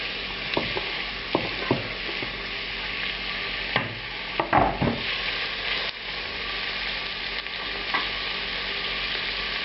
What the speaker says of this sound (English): Into a hot pan, we add about an ounce of oil, about 30 milliliters of oil, something like that. Here are the onions.